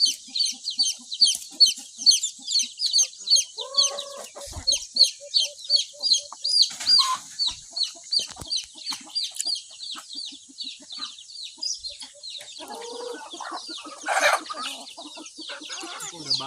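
Chickens cluck steadily in rapid, overlapping bursts while being fed rice bran on a provincial farm, with an occasional rooster crow rising above the flock and a voice speaking briefly nearby.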